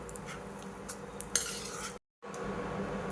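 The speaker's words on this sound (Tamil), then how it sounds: "இது எல்லாத்தையும் அரித்து வேறு பவுலுக்கு மாற்றிடுங்க" Roasted horse gram lentils are scraped out of a pan into another bowl, making quiet metallic scrapes and light clinks of a spoon against cookware, with a short silent break before the low background resumes.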